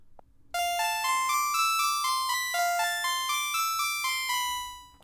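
A simple, slightly creepy scale played through a MIDI synth tone, bright sustained notes stepping one after another in an even rhythm, close and clear with no talking.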